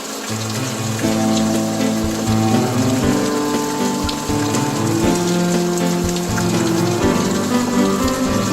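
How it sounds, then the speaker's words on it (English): Heavy rain pours steadily and loudly near a drainage channel, with a continuous wash of water and a low droning hum from a pump running underneath, no voices. "This is good heavy rain."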